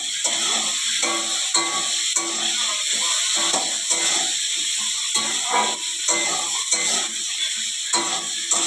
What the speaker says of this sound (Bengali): একটু অল্প তেলে সবজিগুলোকে একটু ভেজে নিবি